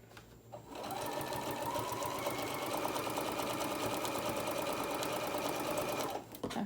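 A sewing machine stitches thick minky fabric for a tag blanket, its motor starting after a brief pause and running in a steady, close, rapid whir for about five seconds before stopping.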